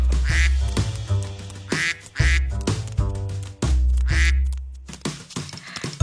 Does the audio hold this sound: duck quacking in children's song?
yes